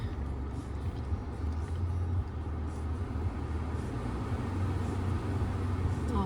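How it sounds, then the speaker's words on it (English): The air conditioning in a Toyota Camry XSE blows cold air, a steady low rush of fan airflow inside the cabin that holds at an even level throughout without any distinct events. "AC is blowing cold air."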